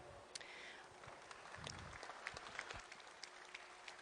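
A conference audience at a digital summit gives a round of applause, faint and distant, a steady patter of many hands with a few sharper claps standing out.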